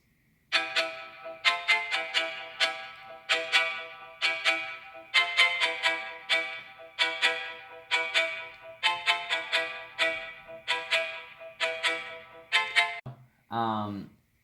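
A crisp plucked-string synth plays a repeating melody in quick, evenly paced notes, ending with a brief descending sweep.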